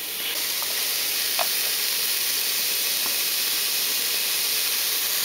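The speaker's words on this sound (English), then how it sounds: "dry fry them till the juices start to come out, and they'll cook in their own juice" Chanterelle mushrooms, Cantharellus aff. confluens, dry fry with salt in a pan, giving a steady bright sizzle and hiss with a few faint pops, close and continuous with no talking.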